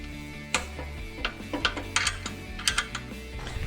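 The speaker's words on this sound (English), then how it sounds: "let me remove this bolt for the tank here, and remove these front tank bolts" Fuel tank bolts come off a Predator 224 engine, a quick series of close metallic ratchet clicks and taps in short bursts against a steady low hum.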